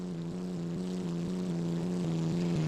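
An F1 car's V12 engine in a racing video game drones at a steady, buzzing pitch, dipping briefly at regular intervals as if shifting gears, loud and continuous with no talk.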